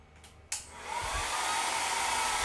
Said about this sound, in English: it happened to me with my old blow dryer